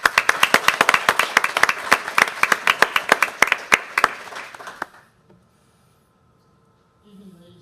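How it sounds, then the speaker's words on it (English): Sparse audience applause at a school board meeting, a handful of people clapping in loose distinct claps for about five seconds before it stops, followed by quiet room tone and a brief voice at the end. "Let's give them a round of applause."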